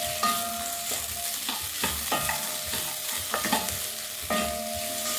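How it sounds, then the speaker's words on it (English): Beef and vegetables sauté in a pot, a steady close sizzle broken by repeated scraping stirs of a utensil against the pot, with no voices. "I'm going to let that saute for a minute."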